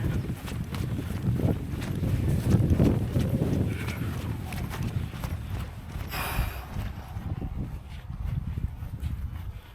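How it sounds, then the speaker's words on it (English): Running footsteps thud rhythmically on an off-road dirt surface, picked up by a moving action camera amid steady wind buffeting, with a brief bright rattle near the end. "Got me running over here in the dirt."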